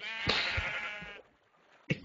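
A Minecraft sheep gives one drawn-out, wavering bleat up close, then after a short pause a second bleat begins just as the sound ends.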